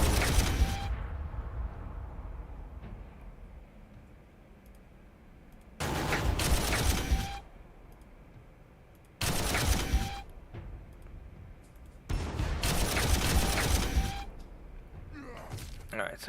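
Gunfire in Warhammer 40K Armageddon comes in four loud, sharp bursts, each lasting one to two seconds, separated by quieter stretches of low rumbling ambience.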